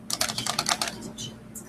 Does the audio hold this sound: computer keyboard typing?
yes